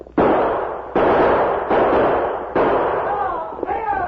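Gunshots in an old NBC radio western drama: five loud close reports in a row, each with a long echoing tail, the last one overlapped by whooshing ricochet-like whines.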